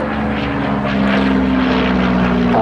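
An Ilyushin IL-2 Sturmovik, a restored World War II armoured attack plane with a 12-cylinder engine, flies over Berlin, its loud propeller drone steady and near with a sustained droning tone.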